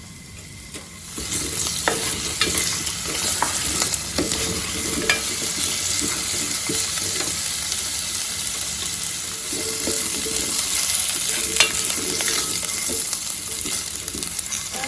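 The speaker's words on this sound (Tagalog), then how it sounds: "pa-fry muna natin ng potato at saka carrot" Potatoes and carrots fry in oil for a pork ribs caldereta: a steady, close sizzle with scattered clicks and scraping stirs, running unbroken with no talk.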